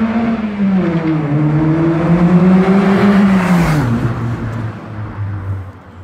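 A Ford Fiesta with a 1.7 Puma engine swap drives past, its engine note rising then sweeping down in pitch as it goes by, loud and close before fading away.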